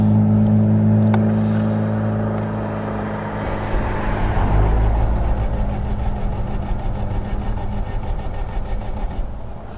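A 1972 MG MGB engine catches briefly and stalls: loud cranking and a brief rough firing surge midway, then the motor dies into uneven mechanical noise, close up with no talking.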